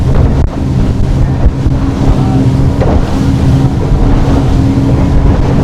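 An offshore center console boat's engine hums steadily over rushing ocean water and wind buffeting the microphone, loud and continuous throughout.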